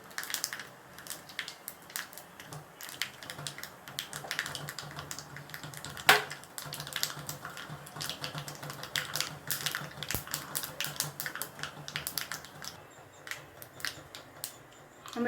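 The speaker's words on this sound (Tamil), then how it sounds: "கடுகு நல்லா பொரியணும்." Mustard seeds spluttering in hot oil in a pan for a palak spinach dish, a dense run of sharp crackling pops, some louder bursts, close and without talk.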